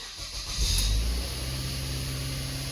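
A Mazda CX7 engine cranks and fires with a short low burst, then settles into a steady idle hum close by, right after a transmission, transfer case and rear differential oil service.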